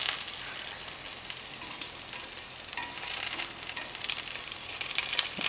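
Food cooks in a pan with a continuous bright sizzle and crackle, with faint stirring and spattering that rises slightly toward the end, with no voices.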